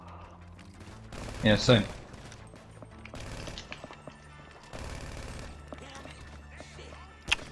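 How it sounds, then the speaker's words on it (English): Submachine gun fire in a video game comes in short bursts and scattered shots under casual chatter among players, with one loud voice outburst early on. "Oh, yeah, I have a SMG now."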